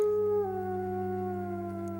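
A long, sustained howl with a steady tone that dips slightly in pitch early on, heard alone without talking.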